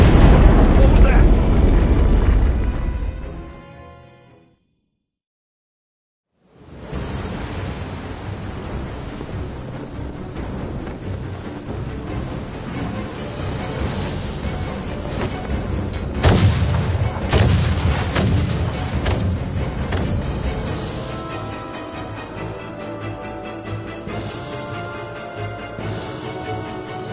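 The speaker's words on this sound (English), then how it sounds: "We are taking massive fire from the Empire's naval battalion. Their unceasing bombardment is laying waste to our forces." Heavy naval bombardment and artillery fire in the video game Star Ocean: The Divine Force, with loud rumbling booms and sharp blasts that fade out, a short silence, then a dense, continuous barrage with repeated cracks and explosions.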